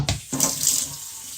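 City tap water running into a 32 oz Nalgene bottle with an Epic Water Filters filtration insert: a brief splashing gush starting abruptly, then a steady hissing pour that eases toward the end, close and alone.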